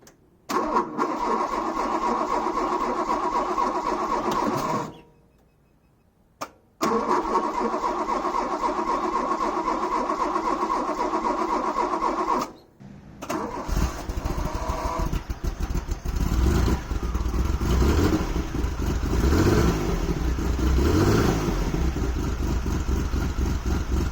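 An ailing Alpine V6 engine cranks and catches, runs rough, cuts out, then restarts and revs loudly up close, its idle uneven and strained.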